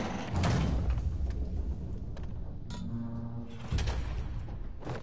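Heavy trap door in a Spider-Man game sliding and grinding open, a loud mechanical scrape with creaks and a droning hum, then a thud near the end.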